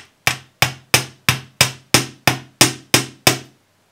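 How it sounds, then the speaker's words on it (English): Ten crisp metal hammer blows on a twister bead, evenly spaced at roughly a third of a second, each sharp strike ringing briefly before fading, loud and close with nothing else heard. "I'm just hammering random parts of the length, and it's a stroking motion."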